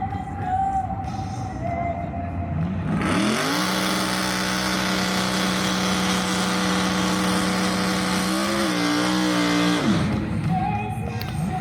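Plymouth Barracuda with a 540 engine at a drag race, a loud sustained engine roar that surges in, holds with rising pitch for several seconds, then cuts off back to quieter background.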